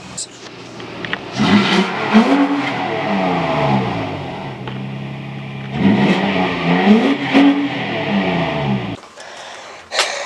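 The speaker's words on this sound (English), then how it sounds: "Before you shut it off, give us a couple revs." A Mustang engine revs up twice, each throaty rise climbing and falling back to a rumbling idle, loud and close, with a brief pause between bursts.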